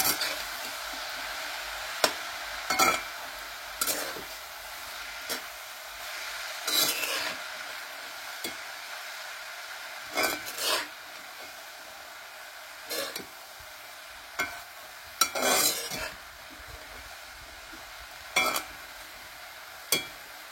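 Red amaranth leaves are sautéed and stirred in a pan, with a soft steady sizzle under intermittent scraping strokes of the spoon, close by and without talk.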